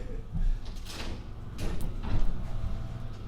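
A door is shaken hard, giving rough bursts of rattling and knocking at close range, with faint voice sounds in the background.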